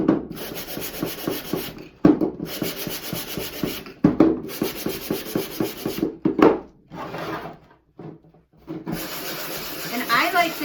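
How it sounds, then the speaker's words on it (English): Hand sanding along the edges of a wooden nest box, a steady scratchy rubbing in repeated circular strokes that pauses briefly now and then, close and fairly loud. "I like to go in a circular motion when I'm sanding"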